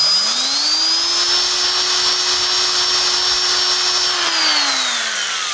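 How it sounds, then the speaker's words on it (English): Ultra fine ball hone on a power drill stroking a Porsche 911 air-cooled cylinder head valve guide, a steady whirring tone lasting several seconds alone, ramping up at the start and winding down at the end. "I'm going to use my ultra fine ball hone, and I'm just going to give the valve guide a couple of quick strokes"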